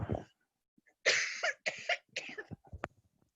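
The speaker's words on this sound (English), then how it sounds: "I'm going to cough again, sorry" A few close, sharp coughs in quick succession, dry and raspy, with brief silences between them and no talking.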